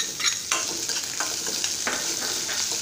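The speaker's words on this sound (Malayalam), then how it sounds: "ഇനി നമുക്ക് അരിഞ്ഞു വെച്ചിരിക്കുന്ന ചെറിയ ഉള്ളി ഇതിലേക്ക് ഇട്ട് കൊടുക്കാം" Chopped shallots hit a hot pan and are stirred, giving a steady close sizzle broken by scraping strokes of the spoon at an uneven rhythm, with no talking.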